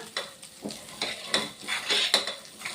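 Boiled taro root pieces fry in oil while a steel ladle stirs them, giving rhythmic close scraping strokes over a steady sizzle, with no speech.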